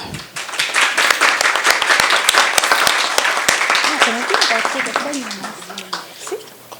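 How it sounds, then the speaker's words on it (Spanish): An audience at a talk on protecting vulnerable groups in family law applauds warmly, with dense clapping near the start that thins out while a speaker talks over the fading applause. "a quien por favor le brindemos un fuerte aplauso"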